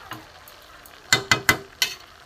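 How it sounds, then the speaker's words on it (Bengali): Spices stirred into a vegetarian cabbage curry in a pan, four or five quick scraping strokes close up, with light background clatter and no talk. "এবার আমি ভালো করে এগুলো মিশাবো মশলাটা"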